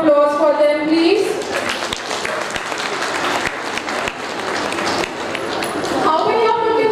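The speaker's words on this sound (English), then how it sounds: "Can we have a huge round of applause for them, please?" Audience applause at a preschool annual day, a dense, steady wash of clapping that swells and holds loudly for several seconds, with voices and music tones at the start and end.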